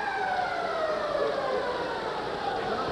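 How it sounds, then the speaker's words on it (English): Arena siren sounding at the end of an ice hockey game between the Flyers and Canadiens in 1988: a loud, sustained wailing tone with slowly falling pitch, held steadily for the whole stretch before cutting off abruptly. "there goes the siren to end this hockey game"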